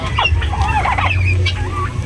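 Loud, close gobbling and clucking from a group of broad breasted turkeys, several birds calling over one another in a continuous, busy chorus.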